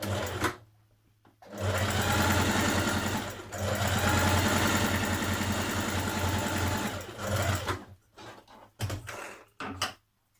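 A sewing machine stitches a skirt seam with a steady, close mechanical whir that runs for several seconds and pauses briefly while back tacking, then ends in short bursts and clicks.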